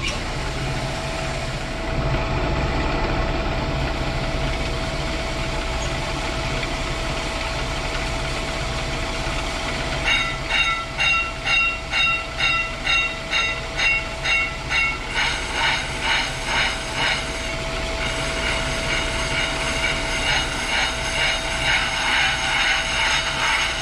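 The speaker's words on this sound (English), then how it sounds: "I'm going to start a machine." A brake disc turning machine runs steadily in a home garage, a continuous mechanical hum with a high whine, joined midway by a rhythmic pulsing chatter as the cutter works the disc.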